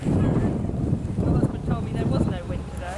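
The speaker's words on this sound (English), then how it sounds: "That's a cold wind." Cold wind buffets the microphone aboard a sailboat at sea, a steady low rumbling gust with water sounds beneath, loud and close, while people speak briefly over it.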